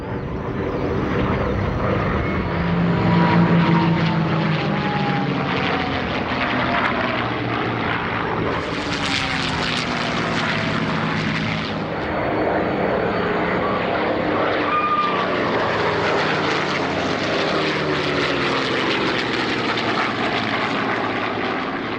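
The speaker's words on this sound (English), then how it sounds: "the only remaining example of the 424 Corsairs operated by the Royal New Zealand Air Force is flown at Coventry by Air New Zealand pilot Keith Skilling" A WWII Corsair fighter in US Navy markings flying a display at the Coventry airshow, its piston engine and propeller droning loudly and continuously, the pitch sweeping up and down as it passes and banks.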